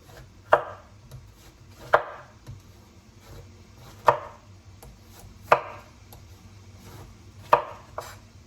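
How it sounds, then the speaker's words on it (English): A sharp knife cuts through a large pink banana squash: five or six crisp, loud chopping thuds, spaced about a second or two apart, with quiet between strikes and no talking. "this squash is cutting so easily"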